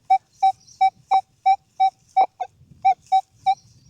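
Metal detector at an old school and cricket oval sweeping over a small coin-like target, giving a steady series of about ten short, bright, evenly spaced beeps, loud and close, over faint rustling of the ground.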